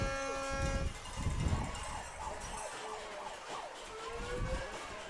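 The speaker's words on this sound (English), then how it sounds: "Got the car alarms going." Car alarms wail at a baseball game, rising and falling electronic tones heard at a distance over crowd noise and a steady outdoor background.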